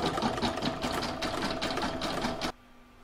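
An embroidery machine stitches the join between hexagon and spoke on a heart placemat, a loud, rapid, steady mechanical rattle that runs for about two and a half seconds, then stops abruptly.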